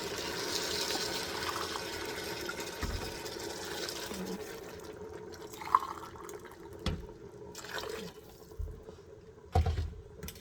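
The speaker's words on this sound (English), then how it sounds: "I'm going to put 3 cups of water." Three cups of water pour and trickle steadily into an Instant Pot for several seconds, then give way to quieter clinks and small knocks.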